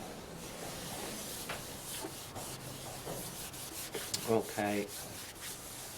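A cloth rubs sealer into the rim of a wood-turned platter, giving soft, steady friction hiss with a few brief squeaky strokes near the end and a short spoken word.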